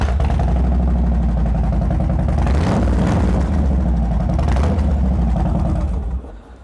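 A 2008 Harley-Davidson Road King FLHRC V-twin fitted with a Vance and Hines header exhaust, running loud and close with a deep lumpy idle and a couple of throttle blips before it dies down at the end.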